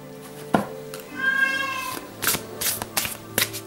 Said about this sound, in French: c'est mon petit chat qui miaule